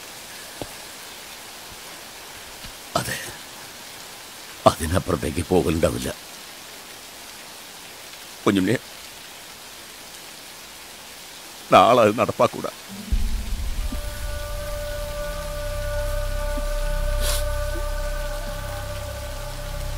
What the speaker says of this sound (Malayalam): പുറത്ത് നല്ല മഴയുണ്ടോ? നല്ല ശബ്ദം, അഷ്ടകലാശം ചവിട്ടണ മഴ.